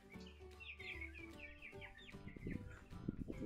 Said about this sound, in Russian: Бройлеры.